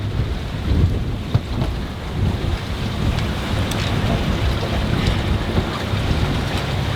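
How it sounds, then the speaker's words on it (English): A sudden 35-knot wind gust hits a sailboat at sea in the Caribbean, a loud, dense roar of wind and rushing water filling the whole stretch with a few sharp knocks. "We just took a 35 knots gust coming out of nowhere from 10 knots of wind to 35"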